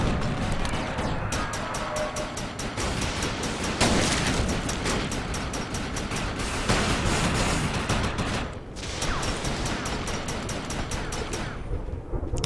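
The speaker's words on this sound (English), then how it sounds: "I was shooting at that structure this whole time" Gunfire and explosions from the video game Defiance, played on PS3, form a dense continuous barrage of rapid shots and booms that stays loud throughout.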